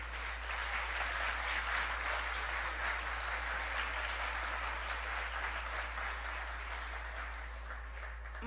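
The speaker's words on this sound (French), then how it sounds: "applaudis mesdames" Sustained applause from a church audience, mostly women, at a talk on a Christian woman's conduct in times of crisis, a dense steady clapping wash lasting throughout and easing slightly toward the end.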